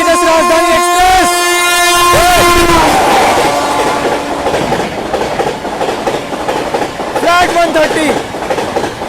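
Patna Tejas Rajdhani Express overtaking on the Delhi–Gaya line, a loud horn blast followed by rushing wheels and clattering cars close by, with a second horn sounding near the end and a voice speaking briefly.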